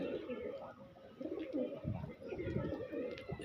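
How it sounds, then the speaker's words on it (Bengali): Andhra-line and other pedigree pigeons in a loft with young birds coo in soft, repeated throaty rolls, several birds overlapping at close range against a quiet background. "পায়রাগুলো দেখুন, এই যে বাচ্চা আছে, সব আন্ধ্রা লাইনের পায়রা আছে"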